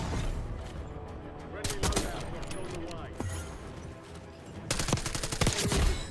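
SMG gunfire in Warzone (Black Ops 6), several sharp bursts of shots, some close and loud, others further off, with a voice talking between them.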